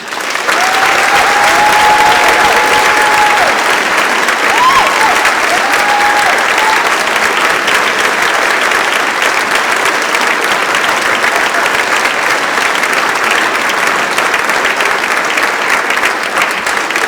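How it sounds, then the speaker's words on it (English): A large crowd gives sustained, loud applause for national champion teams at a celebration, a dense, even clatter of clapping that fills the whole stretch with a few faint cheers early on. "one last round of applause for our champions"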